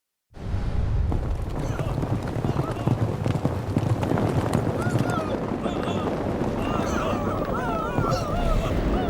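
Horses gallop across a polo field in ancient Tibet, their hooves drumming in a steady, close clip-clop for the whole stretch, with voices calling out and a busy background throughout.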